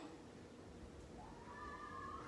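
A cat gives one drawn-out, rising meow in the second half. It sounds faint and somewhat distant over a low, steady room hum.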